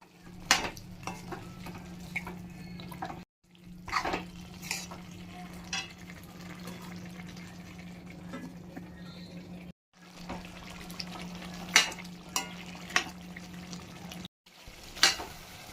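Pepper chicken with salt, turmeric and half a cup of water simmers and sizzles in a pan with a steady low bubbling, broken by a few brief gaps and occasional stirring clinks.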